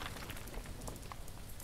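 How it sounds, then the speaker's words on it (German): Steady rain in a video game patters across the whole stretch, a dense even hiss with scattered droplet taps, with no voices. "Ich glaube, es regnet etwas stärker."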